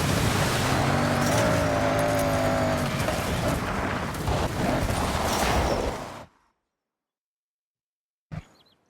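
A car in the Forza Horizon 6 video game drives hard for about six seconds with a loud, steady engine drone and some tire noise. It then cuts to silence, followed by one brief late blip.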